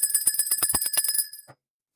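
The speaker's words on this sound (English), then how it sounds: "let me ring my bell" A hand bell rung rapidly, a quick run of about a dozen bright metallic rings that stops abruptly, close and clear, with no talking.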